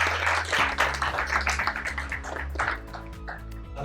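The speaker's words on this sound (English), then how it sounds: "we give you a round of applause for the panelists" An audience at an AI community meetup claps for a panel of speakers, the scattered hand claps sitting fairly quietly over steady background music.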